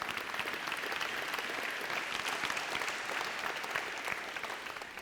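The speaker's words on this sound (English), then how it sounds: "Give yourselves a round of applause." Convocation audience at a college event clapping in sustained, dense applause, steady and full for five seconds before easing slightly at the end, with no talking over it.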